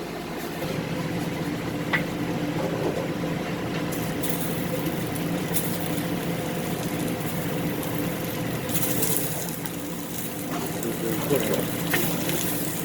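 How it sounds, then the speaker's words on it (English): Pork ribs fry in a little lard rendered from the pork over medium heat, giving a steady, close sizzling hiss that runs the whole time with a few faint clicks. "We put a little bit of lard that we rendered from the pork, and we're gonna fry them with that."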